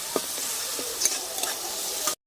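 Spices being sautéed and stirred in a pan with tomatoes and a little water, a steady close sizzle with light scraping strokes of the spoon, cutting off abruptly at the end.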